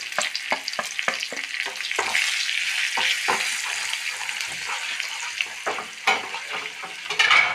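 Potato curry with chilli powder and garam masala sizzles in a pan while a spoon scrapes and taps against the metal in quick repeated strokes, loud and close, with a continuous frying hiss underneath.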